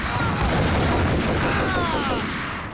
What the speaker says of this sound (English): Dropping a grenade behind me doesn't help